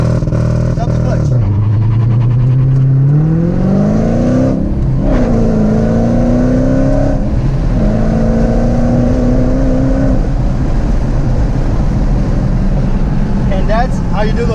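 Manual Dodge Hellcat with a Dynomax muffler delete doing a launch-control start: a loud, close engine drones at steady revs, then surges through rising gear pulls for about ten seconds before easing off, with talk over parts of it.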